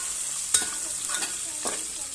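Halved shallots and fresh curry leaves sautéing in a pan: a continuous near sizzle broken by a sharp utensil knock early on and a couple of later stirring scrapes.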